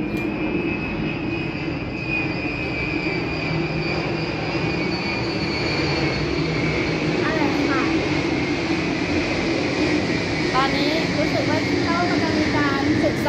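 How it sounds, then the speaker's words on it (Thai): A loud, steady airplane roar drones overhead throughout, with a persistent whine, while people talk underneath. "แต่ก่อนมันจะไม่ดังขนาดนี้เนาะเครื่องบินเนาะ"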